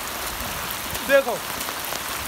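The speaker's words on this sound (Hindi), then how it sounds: "मैं आपको दिखा दूँ ये बारिश हो रही है" Steady rain falls in Nepal, a continuous soft hiss of drops on surfaces throughout. A single short spoken word breaks in midway.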